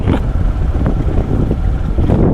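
Heavy wind buffeting on a motorcycle in Turkish traffic, a steady loud low roar throughout with no talking.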